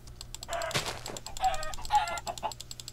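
A chicken in a video game giving several short, clipped clucks in quick bursts, close and fairly loud over faint clicking keys.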